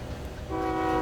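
A locomotive air horn sounds at a sunny desert rail line at Daggett, its steady multi-tone blast entering halfway through and holding loud over the rumble of a passing freight train.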